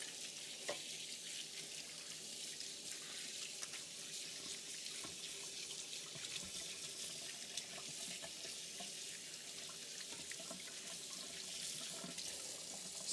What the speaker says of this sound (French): Je vais juste venir me rincer vite